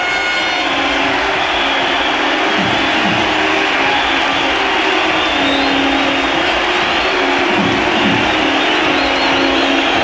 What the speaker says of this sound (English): Warm applause for Brian Lara